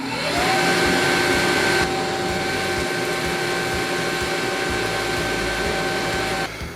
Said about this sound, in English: I'm about to fire it up and suck up this pile of dust